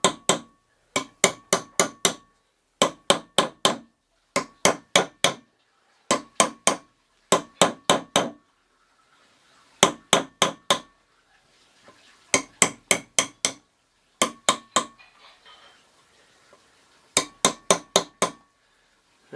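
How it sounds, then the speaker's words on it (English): A rubber hammer taps a seal into the front stub axle hub of a Land Rover Discovery 1. The dull, close knocks come in quick groups of three or four, with short pauses between groups. "It's not so easy with a rubber hammer."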